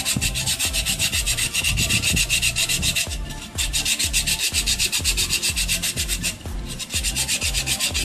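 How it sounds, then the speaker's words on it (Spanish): The cut edge of a glass bottle is sanded by hand in quick, even back-and-forth strokes, making a loud, rhythmic, gritty scraping that runs throughout, with two brief pauses. "Lo estamos lijando para que no tenga ningún filo"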